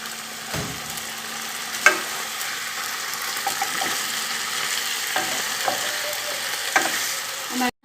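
Chicken adobo pieces frying in a dry pan with no oil, a steady close sizzle with occasional scraping stirs and light clinks of the utensil against the pan.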